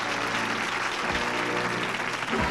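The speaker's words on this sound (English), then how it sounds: "Let's have some applause for them." A 1970s game-show studio audience claps for the contestants, a dense, steady wash of applause that runs the full length at even strength.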